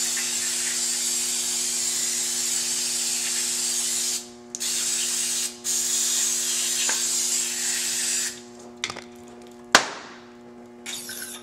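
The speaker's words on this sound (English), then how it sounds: "Brake clean it all off." Brake cleaner sprays in long steady hissing bursts onto an air ride strut during a front air suspension install, with brief pauses between bursts and a few clanks near the end.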